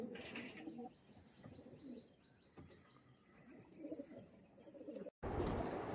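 Rare pigeons at a Bengali pigeon sale give soft, low cooing and scattered chirps through six seconds, faint and close, with a brief dropout and a louder burst at the end.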